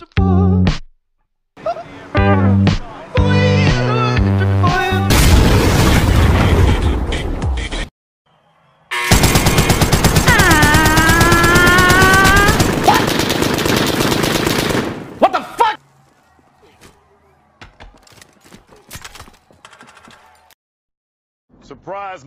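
Call of Duty Warzone gameplay: rapid machine-gun bursts and heavy gunfire fill most of the stretch, loud and close, with brief pauses and a sharp break midway before the shooting fades into scattered quieter shots.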